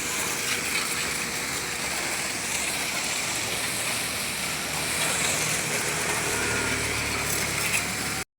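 A long-neglected motorcycle, freshly cleaned, runs at a steady idle with a constant broadband engine rumble and hiss, close and unbroken for the whole stretch.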